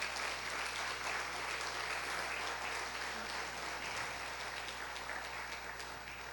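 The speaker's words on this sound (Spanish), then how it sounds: "Denle un fuerte aplauso al Señor." Congregation at a Spanish-language family church service applauding together, a steady, dense wash of clapping that fills the room evenly for several seconds without letting up.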